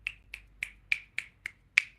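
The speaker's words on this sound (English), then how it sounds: "Yes, finger snaps." Seven crisp finger snaps in a steady rhythm, close and clear, with silence between each snap.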